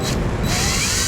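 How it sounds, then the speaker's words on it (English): A power drill bit bores through the plastic rear fascia of a 2016 Jeep Patriot, a close, steady whirring grind with a brief higher-pitched rise partway through, no talking. "You can see it takes little effort for the drill bit to go through the plastic fascia."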